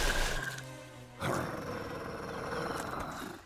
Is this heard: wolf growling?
yes